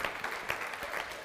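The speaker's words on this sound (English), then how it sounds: "You can applaud them and praise their things, right?" A church congregation applauds the praise team after an Easter-season service, a moderate, steady wash of clapping from many hands with no voices over it.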